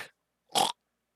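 Human voice mimicking a snore and a sudden pig-like snort, a faint breathy start followed by one short loud nasal burst, then silence.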